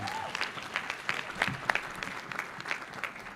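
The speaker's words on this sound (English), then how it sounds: "Can you give them an applause?" Conference audience applauding to acknowledge young school-level leaders at the RCL Conference 2024; steady, dense clapping from a sizeable crowd fills the whole moment at moderate volume, without speech over it.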